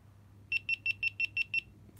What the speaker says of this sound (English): 5 beeps, we are off.